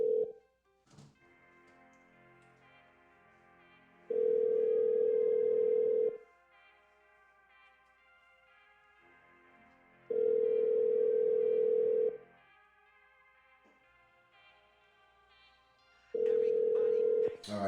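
A telephone call is placed: a steady dial tone sounds in three evenly spaced two-second pulses separated by quieter gaps, with a couple of short clicks at the start and end.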